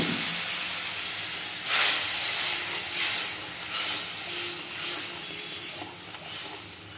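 Water poured into hot masala in a cooking pan for a Bengali home curry with potatoes, giving a steady, close hiss and sizzle that swells a few times and keeps going, with no talking.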